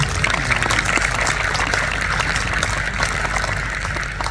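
Crowd applause at a state reception in the grounds of the Pacitan regency pendopo, a dense, steady roar of many clapping hands that carries on for several seconds, close and loud.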